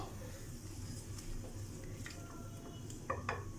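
Cocoa powder and sugar stirred together in a pan for brownies, a soft continuous scraping swirl with a few light utensil taps near the end, fairly quiet and close.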